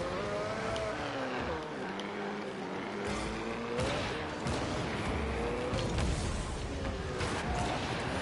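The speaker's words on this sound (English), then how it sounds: "it sounds like a rally car" A game rally car engine revs and shifts through gears, pitch climbing and dropping repeatedly, with sharp bursts and crackles over a steady roar.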